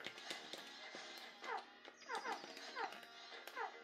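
A dog whimpers and yips in repeated short, high, falling cries, fairly close but quiet, with a few breathy whines between them.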